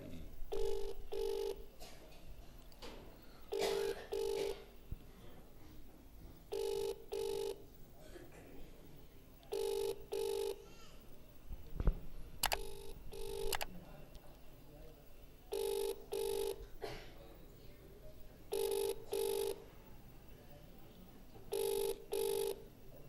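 A telephone call rings through after dialing, repeated paired electronic ring tones in a regular rhythm, with a quiet voice or room sound between the rings.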